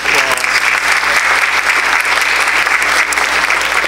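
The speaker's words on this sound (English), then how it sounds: "deserve a round of applause." A church congregation in a decorated worship center bursts into loud, sustained applause during an Advent service, a thick wash of clapping hands filling the room from start to finish.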